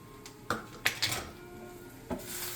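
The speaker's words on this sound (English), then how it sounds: "we're gonna mix this in really well. Make sure it's smoothly covered all over the potatoes" A utensil clinks and scrapes against a bowl while seasoning is mixed into potatoes, a few quiet, irregular taps over a faint background.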